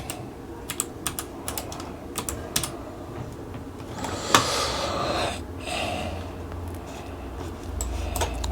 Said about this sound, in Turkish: Şifremi giriyorum.